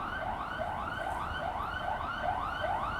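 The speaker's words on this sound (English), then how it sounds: "this ambulance trying to get through over there" An ambulance siren wails steadily close by on a street in Portugal, its rising and falling tone repeating about once every half second, with no talking.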